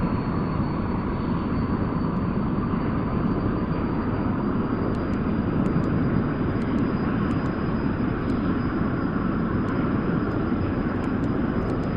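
F-100D jet fighter engine in a flight simulator game, a steady loud broadband roar with a constant high whine, unbroken throughout with no voices.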